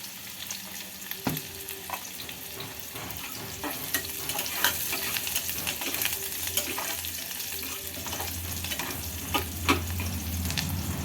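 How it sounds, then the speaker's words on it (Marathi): Chopped onions sautéing in a pan with a pinch of salt for a spicy white pea curry, giving a continuous close sizzle broken by occasional clicks and scrapes of stirring. "कांदा थोडासा परतून घ्यायचा कांदा लवकर परतण्यासाठी यामध्ये एक चिमूटभर मीठ टाकायचं"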